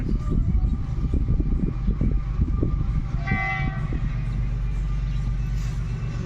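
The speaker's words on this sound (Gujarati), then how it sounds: "જો હવે માલગાડી હે માલગાડી" Loud, heavy rumble of a freight train rolling past close by, with rhythmic clunks and a brief horn-like tone midway.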